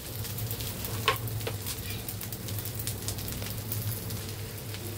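Green chillies and potato pieces fry in a pan, giving a continuous soft crackling sizzle with occasional stirring clicks over a low steady hum; no speech.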